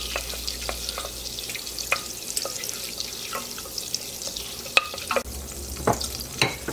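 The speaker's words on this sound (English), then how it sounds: "Just want to melt the butter. We don't want to brown it." Butter melting in a hot pan held just above a burner before flour is added, a soft steady sizzle broken by light scattered clicks and scrapes, with no talk.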